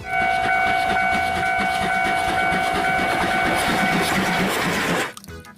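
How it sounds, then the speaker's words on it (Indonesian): A Thomas toy train plays a loud, steady mechanical train sound with sustained whistle-like tones and rhythmic clatter, then cuts off abruptly near the end. "Keluarlah kereta api Thomas."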